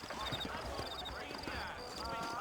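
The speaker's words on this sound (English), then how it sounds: "You ain't gonna find sturdier horses than these in all of New Austin." Horses clip-clop at an easy pace through a frontier town in the video game Red Dead Redemption, soft rhythmic hoof beats under a voice and game ambience.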